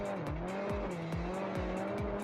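Race cars at Oran Park surge off the grid at a race start, engines roaring loud and close with rapid gear changes and rising revs in quick succession.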